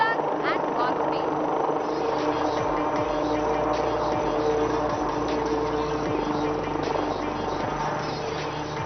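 An LUH light utility helicopter lands at the Aero India 2021 air show, its engine and rotors a steady, loud droning hum with a public-address voice talking over it.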